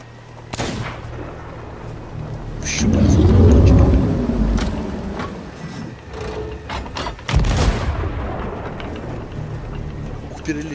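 Ship cannons fire in Sea of Thieves while waves roll: sharp booms near the start and middle, with a swelling rumble of sea and creaking hull between them, and voices talking over parts of it.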